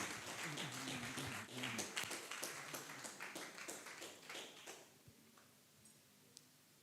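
Applause for a Member of Parliament, an attorney, at a community Wi-Fi launch event: a crowd claps in a loud steady patter that thins and fades out after about five seconds, leaving quiet room sound.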